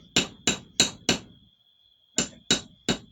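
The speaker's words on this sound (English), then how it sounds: "This is the 8-ounce hammer I'm using." An 8-ounce hammer strikes a steel ring on an anvil while bending it into shape: four sharp, ringing blows in quick succession, a brief pause, then three more, loud and close with a sustained metallic ring between hits.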